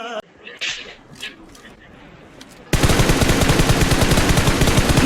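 Dense automatic gunfire from the BGMI battle royale game erupts suddenly and loud after a quieter stretch of scattered single shots, continuing as a rapid, sustained burst of rounds to the end.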